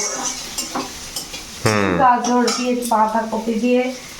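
Chowmein being stir-fried in a pan in a home kitchen: metal scraping and clinking against the pan over a steady sizzle, close and fairly loud, with brief speech early on.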